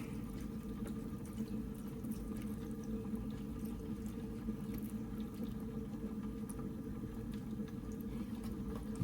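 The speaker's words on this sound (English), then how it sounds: "Add my water." Water runs steadily into a rock tumbler barrel holding borax and a fossilized dugong rib bone, giving a continuous close, rushing pour with no pauses.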